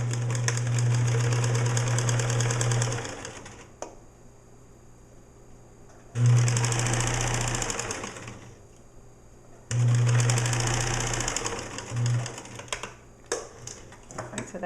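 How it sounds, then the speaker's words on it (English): A sewing machine top stitching the turned-under edge of a boy's hat, running in three long steady bursts of rapid whirring stitches separated by pauses with small handling clicks. "I'm going to come back over here to the sewing machine, and I'm going to turn that edge under and top stitch it."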